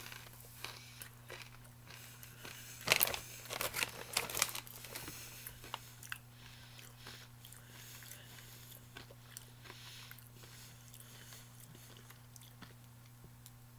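A short cluster of crunchy chewing on a crisp, hollow jalapeno chakri snack, loud for a couple of seconds, then fading into faint, sparse crackles and near silence.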